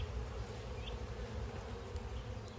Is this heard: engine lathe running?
no